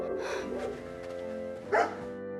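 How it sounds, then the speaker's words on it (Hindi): A dog barks loudly indoors, a couple of sharp barks with harmonic tone, one burst near the start and a louder one toward the end. "कितनी जोर से भौंकता है।"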